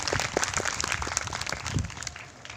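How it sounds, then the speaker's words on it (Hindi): An audience at an International Yoga Day celebration in Meham claps, a short burst of dense, scattered hand claps at moderate level, fairly close. "जोरदार तालियां आप अपने लिए बजाएंगे।"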